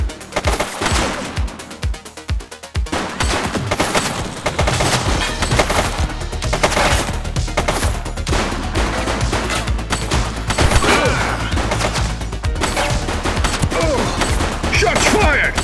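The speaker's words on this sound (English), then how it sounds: "Shots fired!" Loud, dense bursts of rapid gunfire ring out during a police shootout in the video game The Precinct. The shots are packed close together and run almost nonstop, with voices heard among them.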